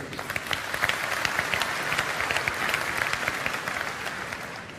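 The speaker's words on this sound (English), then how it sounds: "Big round of applause for your loyalty" A large crowd at a tech conference's general session bursts into sustained applause, with thick, even clapping and a few sharper individual claps standing out near the front.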